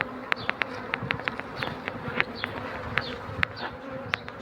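A dense swarm of honeybees, a colony taken down from a tree, buzzing loudly and continuously up close with sharp individual wingbeat passes over the drone.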